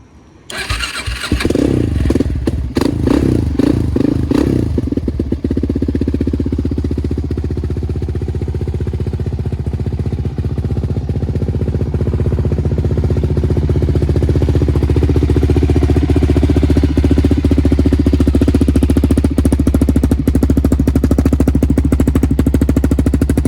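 A 2006 Suzuki LTZ400 quad with an aftermarket exhaust cold-starting outdoors: a few seconds of cranking and sputtering catch into a loud, steady idle that drones on evenly, close to the machine.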